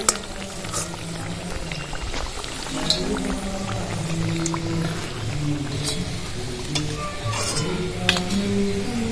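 Steady bubbling and crackling of puffed-rice cutlets frying in oil, continuous and close, with faint background hum and occasional clinks.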